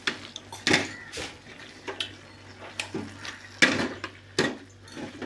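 Cabbage is stir-fried in a pan at home with irregular, fairly faint scrapes and clinks of a spoon against the metal and a quiet background hum in between.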